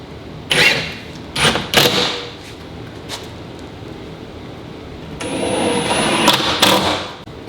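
A power drill drives screws into sheetrock during a drywall repair. Short, sharp whirring bursts come close by: three quick ones near the start, a lone brief one, then a longer, steadier run of driving toward the end.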